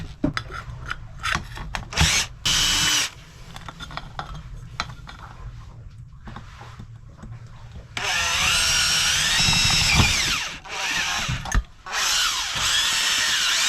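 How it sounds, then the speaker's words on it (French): Power drill boring through a 10 to 12 mm aluminium tube during an emergency steering repair with a boat hook, loud grinding bursts starting and stopping, with a long sustained stretch near the end. "Je vais percer le tube alu, soit du 10 ou du 12"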